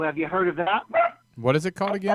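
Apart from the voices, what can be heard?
dog barking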